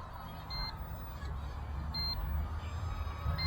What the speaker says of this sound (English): now I've got a warning beep on the transmitter.